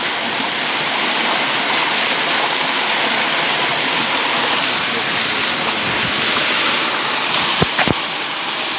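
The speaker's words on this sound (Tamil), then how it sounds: "அங்கே வான்கதவாம். அது என்ன தண்ணி அதுக்குள்ளாலையும் பெருகுது." Water pours heavily through a dam spillway gate near a hydroelectric station in a quiet village, a loud, continuous roaring rush with no pauses, broken only by a couple of sharp knocks near the end.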